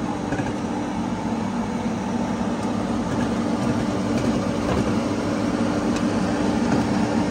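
A motorcycle engine runs steadily on a dyno before a trip to Thailand, a loud continuous drone with a strong low hum and broadband roar that holds even throughout.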